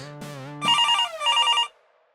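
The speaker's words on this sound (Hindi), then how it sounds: "एक तो ये फोन आ गया" An electronic telephone ring trills in two quick warbling bursts after a brief tone, close and clear, then stops.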